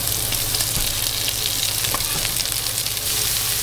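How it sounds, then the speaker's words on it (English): Leeks fry in rendered bacon fat in a pan beside crisping bacon, giving a loud, dense, continuous sizzle with faint crackles and light stirring scrapes, no voices. "I'm gonna push it all to one side and then use that fat. I'm gonna put those leeks in there."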